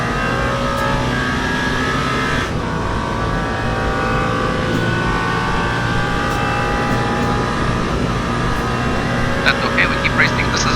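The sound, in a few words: race car engine at Le Mans in video game Le Mans Ultimate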